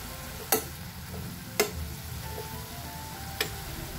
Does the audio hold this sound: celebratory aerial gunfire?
no